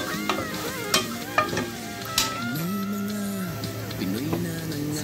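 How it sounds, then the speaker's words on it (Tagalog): Garlic and broccoli sizzle and spatter in a pan with ginger, a close, continuous crackle punctuated by sharp clinks and scrapes of a utensil stirring them. "Takpan muna natin saglit. Kasi ang lakas dumalsik."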